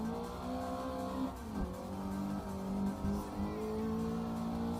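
Honda Integra race car in the Assetto Corsa racing game, its engine droning and revving with shifting pitch as it closes in behind and passes, moderately loud against other car engine tones.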